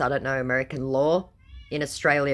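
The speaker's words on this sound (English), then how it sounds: "Sorry about the cat screaming outside the room." A cat screams from outside the room in a few drawn-out, wavering yowls, heard clearly beneath and between a man's ongoing speech.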